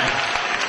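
Brief burst of dense audience applause at a live stage event, loud and continuous with no voice over it.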